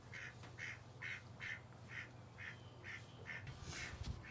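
Ducks quacking in a steady, repeated series of about ten calls, evenly spaced, over a low background hum.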